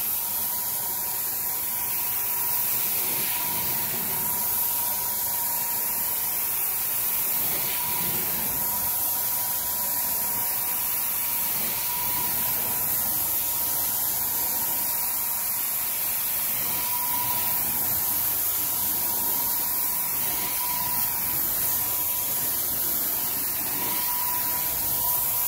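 Hot steam spraying continuously from a carpet cleaning machine's wand during carpet cleaning, a steady, loud, close hiss with a faint tonal whine underneath, unbroken throughout with no talking.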